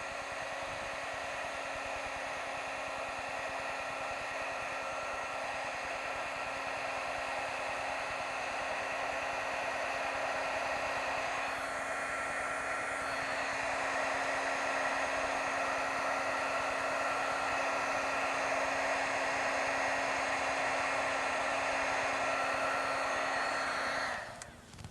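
A heat tool runs continuously to dry white liquid applique on a stamped card, a steady loud whirring blower hum with hiss that holds for about twenty-five seconds before cutting off.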